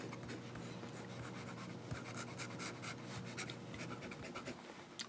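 An Opus 88 fountain pen nib writes on paper, a faint, close scratching and rubbing with irregular strokes and brief taps, heard alone in a quiet room.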